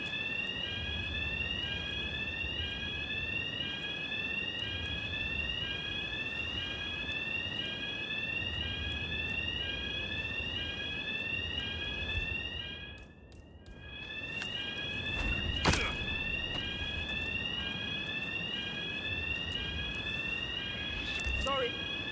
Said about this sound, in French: Alors faut évacuer quand on entend une alarme incendie